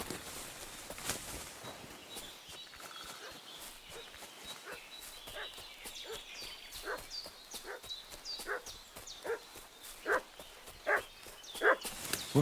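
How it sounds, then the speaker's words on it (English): A dog barks in short, loud bursts near the end of a scene in Kingdom Come: Deliverance 2, a medieval setting. The barking follows quieter ambient footsteps and background noise. "What's that dog making such a fuss about?"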